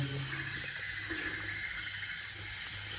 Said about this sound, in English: So I just wet my face.